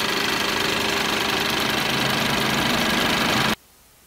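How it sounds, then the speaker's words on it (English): A Ford Edge's 2-liter EcoBoost turbocharged engine idles steadily under the hood, a loud, even mechanical hum with a fine ticking texture that cuts off abruptly near the end. "Under the hood is a 2-liter EcoBoost engine."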